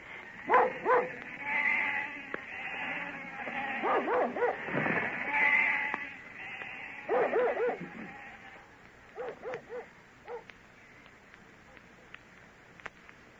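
A flock of sheep bleating, several wavering calls close by in bursts with short gaps between them, voices talking faintly in the background.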